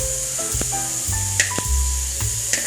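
Steady sizzling of soya chunks frying in a pan for Mangalore-style soya chunks sukka, a continuous hiss with occasional louder crackles and light musical tones in the background.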